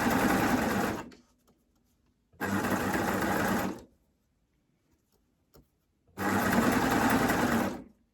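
A sewing machine with a knit binder stitches binding onto the curved neck edge of a T-shirt. It runs in three loud, steady bursts of about one and a half seconds each, separated by quiet pauses, with no voices.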